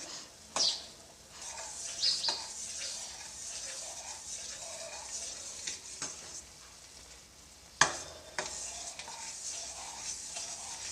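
Melted sugar syrup bubbles softly in a pan over a medium gas flame, a faint steady hiss with occasional scrapes and sharp taps of a spoon stirring it.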